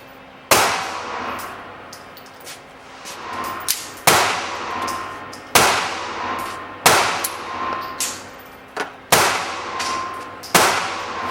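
Beretta Pico compact pistol firing hollow point ammunition, six loud sharp gunshots spaced roughly every one and a half seconds, each followed by a short ringing decay and faint brass clinks between shots.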